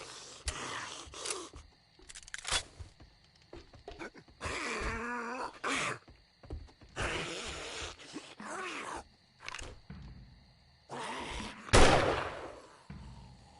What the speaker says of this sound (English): feel the wrath of my tier 2 pipe rifle